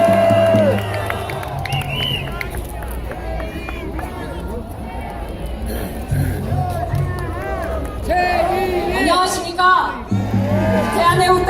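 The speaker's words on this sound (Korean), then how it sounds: "박수로 모시겠습니다" Outdoor crowd at a Taegukgi political rally at Seoul Station Plaza greets a young speaker with cheering, whoops and shouts over a busy hubbub, loud and lively, while voices carry across the square throughout.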